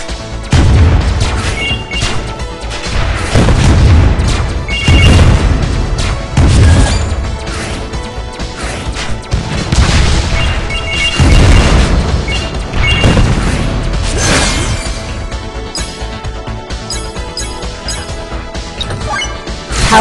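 Burning missile explosions in the mobile game WinWing, a loud run of heavy crashing booms repeating every second or two amid a dense game soundtrack, with no voice.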